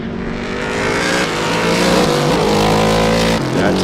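A loud race car roars past at Sebring during an SCCA race, its engine note rising as it nears and holding strong before easing slightly as it passes.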